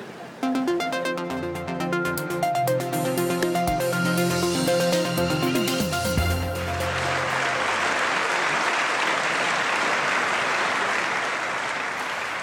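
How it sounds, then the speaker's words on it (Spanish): The European Parliament applauds Malala, a long sustained ovation of clapping that fills the hall after an opening stretch of musical tones, steady and dense throughout. "Este es el sentido aplauso que el Parlamento Europeo dedicaba hoy a Malala"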